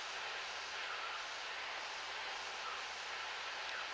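Steady broadband drone of a Cessna 152 light aircraft engine in flight as power is eased back to 2,300 RPM, a continuous even roar heard from inside the cabin with no talk over it.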